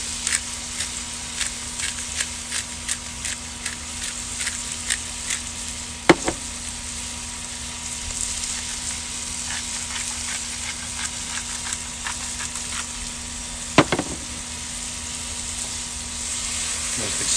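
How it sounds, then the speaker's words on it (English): Steak Diane sauce with mushrooms sizzles hard in a cast iron pan on a grill, a constant loud frying hiss broken by quick clicks and scrapes of stirring and two sharper knocks against the pan. "Give it a nice quick stir."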